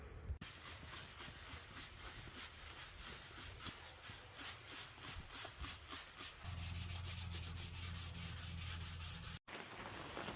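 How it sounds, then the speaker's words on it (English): Primer on a 1989 Mercedes-Benz 190E scuffed by hand with 600-grit sandpaper, quiet rhythmic back-and-forth rubbing strokes up close, growing steadier and louder partway through. "So now we're gonna come in and clean it all and then start scuffing it up"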